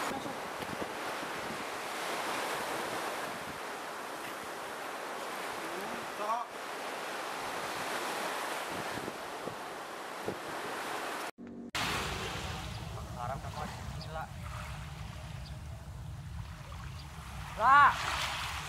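Ocean waves washing along a beach shore, a steady broad rushing wash with wind, fairly faint, changing to a different ambience partway through.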